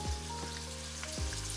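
Sichuan peppers, dried chillies and spring onions frying in oil for a hot and spicy oxtail stew, making a faint, steady sizzle with a couple of soft low thumps.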